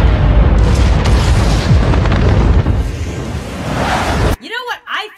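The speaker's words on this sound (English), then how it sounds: "And now explosions." Dense, booming explosion sound effects roar continuously for about four seconds, loud and rumbling, then cut abruptly into a brief stretch of quieter warbling synthetic tones.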